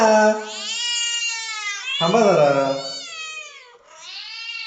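Cats meow loudly and repeatedly, long wavering cries close by, with a person speaking briefly in between.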